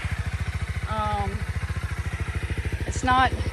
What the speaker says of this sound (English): it just sounds so, it's a nice quiet bike